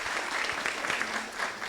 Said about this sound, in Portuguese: Mais palmas para o grupo 1.